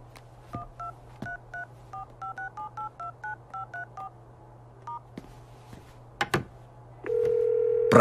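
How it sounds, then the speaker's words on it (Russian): Push-button tones of a mobile phone as a mobile number is dialled: a quick series of about a dozen clear, evenly spaced beeps, then a pause, a couple of clicks and a steady tone at the end, with a low hum underneath. "Тогда я наберу его сам."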